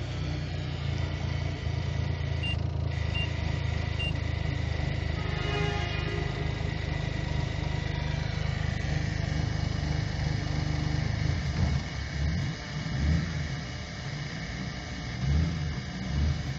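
A United Bravo car engine idles steadily close by, a continuous low rumble holding even throughout with a faint background hum.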